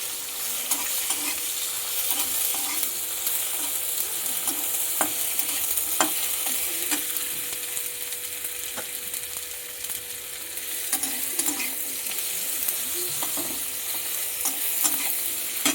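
Tengra fish frying in a pan while being stirred, a steady close sizzle with scraping stir strokes and occasional clinks throughout, no voices.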